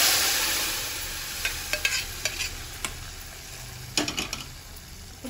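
Moong dal tipped into a hot tempering for a tamarind-and-dal dish, a steady sizzle punctuated by sharp clinks and scrapes of a spoon stirring against the pan.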